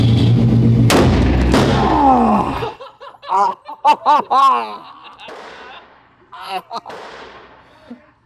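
A single loud gunshot cracks out up close from a blind shooter at a firing range, a sharp blast with a ringing tail, followed by people talking and laughing nearby.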